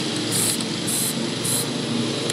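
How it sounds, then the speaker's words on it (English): Aerosol can of Plasti Dip sprayed onto the bumper of a 2006 GMC Sierra, a steady close hiss with three short bursts of brighter, sharper spray standing out at regular intervals. "You might want to spray the edges pretty heavily"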